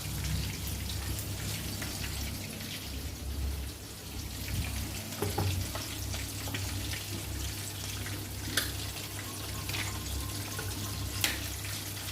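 Steady rain pours down on a rainy day, a dense continuous hiss with scattered drips and splashes close by, with no voices.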